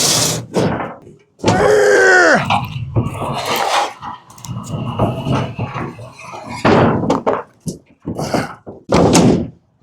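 A heavy fuel tank is shoved into the bed of a 1969 Ford F100 pickup, giving several dull thunks and scraping knocks at close range, with voices between the impacts.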